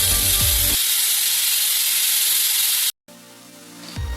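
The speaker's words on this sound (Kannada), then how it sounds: "ಈಗ ಕುಕ್ಕರ್ ಕೂಗಿದೆ" A pressure cooker whistles hard while a lentil curry (hesaru kalu huli) cooks, a loud steady hiss of escaping steam lasting over two seconds, cutting off abruptly, then resuming more quietly with a low hum underneath.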